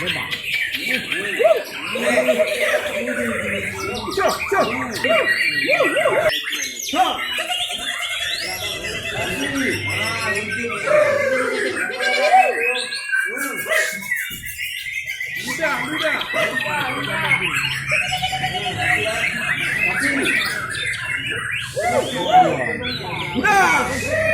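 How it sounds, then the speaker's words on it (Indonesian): Magpie robins sing in a busy stream of whistles and chirps at a songbird singing contest, with crowd voices and talk running beneath the birdsong throughout. "kicauan burung-burung murai."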